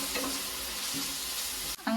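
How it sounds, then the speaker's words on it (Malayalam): Green chili and ginger garlic paste being stirred in a hot pan, a steady soft sizzle with a few spoon scrapes, close, ending in a brief clatter. "ഇനി നമുക്ക് ജസ്റ്റ് ഒന്ന് ഇളക്കി കൊടുക്കാം"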